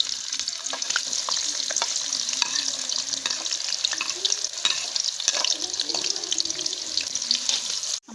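Chopped onions sizzle steadily in hot ghee in a pan, with scraping stir strokes and light clinks recurring throughout, a dense crackling hiss held at a fairly even level with no talking.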